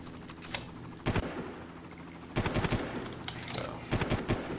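Gunfire in the video game Far Cry comes in three separate loud bursts of rapid shots. The bursts are spaced a second or more apart, with quieter game ambience between them.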